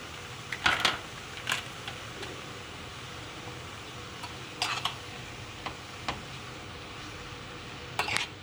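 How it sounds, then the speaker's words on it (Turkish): Apple filling for cookies being stirred in a pan, with a few soft scraping and clinking strokes of a utensil against the metal spaced irregularly over a quiet, steady background. "Karıştırıyorum."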